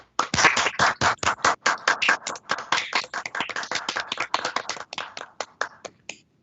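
Court colleagues applaud attorney candidates over unmuted microphones at a livestreamed appellate session. The clapping comes in sharp, separate bursts from a small group, clipped and gated so each hand strike stands apart, and it thins to a few claps near the end.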